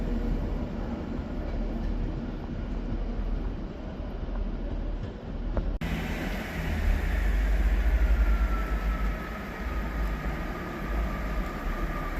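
Class 158 diesel unit 158782 on the Carlisle to Leeds service over the Settle–Carlisle Railway rumbles steadily nearby, its engine and wheel noise shifting abruptly midway as the sound grows fuller and louder.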